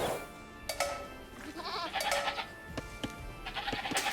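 Sheep bleating in the Age of Empires strategy game, a few short cartoonish bleats amid game clicks and interface sounds, with someone talking quietly underneath.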